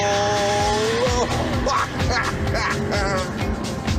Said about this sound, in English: you simply ease the gear lever into S for Star Trek warp factor mode and then engage the turbos